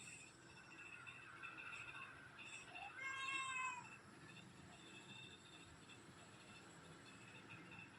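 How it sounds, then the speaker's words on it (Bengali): A pregnant cat gives a single drawn-out meow, rising then falling, around the middle of the clip, against a steady hiss of background noise. "আবার ম্যাও ম্যাও করে"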